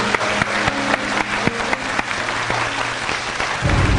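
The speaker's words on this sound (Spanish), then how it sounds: "Un fuerte aplauso para él." Steady applause from a television studio audience on a Peruvian health show, dense clapping filling the whole stretch at constant loudness, with a brief voice under it.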